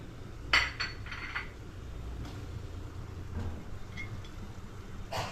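Corn kernels are tipped into a pan and stirred, with a few sharp clinks of a spoon against metal and soft scraping over a low background hum, no talking.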